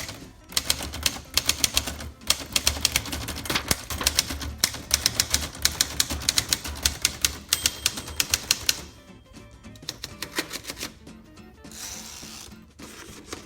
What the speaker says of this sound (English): my assistant is testing out the typewriter